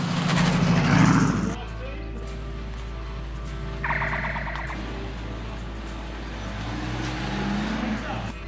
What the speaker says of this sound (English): It's time to get going, and the cars are all waved off in 1-minute intervals.